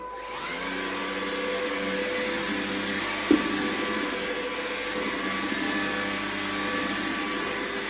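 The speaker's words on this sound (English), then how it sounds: "So Wendy's going to hoover this up now." A LEVOIT LVDC200 cordless vacuum cleaner hoovers oats off a floor, running as a steady, loud motor whine throughout with one brief knock partway through.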